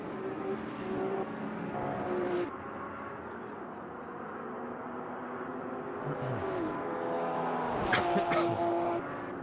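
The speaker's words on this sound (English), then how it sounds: "We're still watching Shadow as he's taking his BMW there" A BMW race car engine in a racing video game holds a droning, shifting tone through corners, with pitch sweeps, brief tire squeal and a sharp transient near the end.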